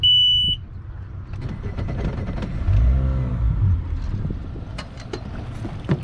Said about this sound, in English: Motor's in the water, then you can start it.